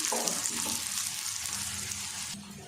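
An aloo paratha frying in ghee on a pan gives a steady, loud sizzle that stays dense and unbroken throughout.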